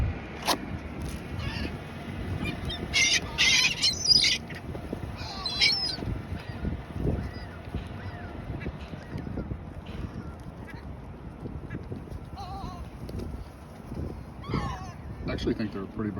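A big flock of hungry seagulls squawks and calls repeatedly while being fed French fries outdoors, scattered cries near and far over wind and ambient noise, with a person talking at times.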